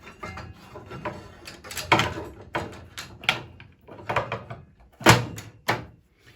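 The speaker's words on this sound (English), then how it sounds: "And then I will reinstall this zero clearance insert." A zero clearance insert being refitted into a table saw, a string of irregular thunks, clacks and scrapes of plastic and metal handling, close and fairly loud with short pauses between knocks.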